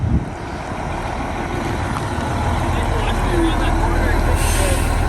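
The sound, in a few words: bus engine warming up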